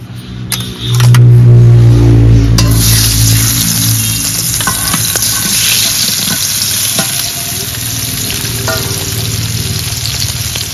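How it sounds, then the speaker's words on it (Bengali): Jiol fish coated in salt and turmeric dropped into hot oil, bursting into a loud sustained sizzle and crackle that settles into steady frying with occasional spatter pops. "মাছগুলোর মধ্যে আগেই লবণ হলুদ মেখে রেখেছি, এবার মাছগুলো তেলে ছেড়ে দেব।"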